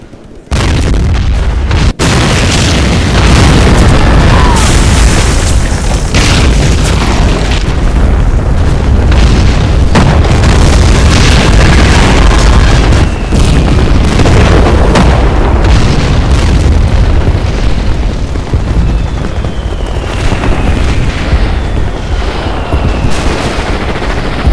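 Soviet T-34 tanks fire on German Tigers in the Men of War: Barbarossa battle, with loud repeated cannon booms, explosions and machine-gun bursts, continuous and close, no voices over it.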